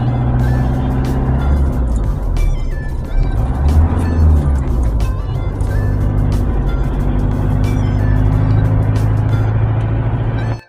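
Continuous road traffic on a ring road in Riyadh, a dense steady roar of passing cars and trucks heard close up from the roadside, with no talking.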